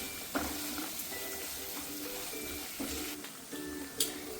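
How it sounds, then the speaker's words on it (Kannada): Asafoetida and spices frying in a pan, a steady close sizzle with a few light clicks and scrapes of stirring, fairly quiet and without speech. "ಇದಿಷ್ಟು ಫ್ರೈ ಮಾಡ್ಕೊಳ್ಳೋಣ."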